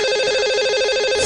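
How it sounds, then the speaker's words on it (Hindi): A telephone rings for a live caller on a radio phone-in show, a loud steady warbling electronic ring tone heard alone. "तो चलिए कॉल मिलाते हैं, उनसे बात करते हैं"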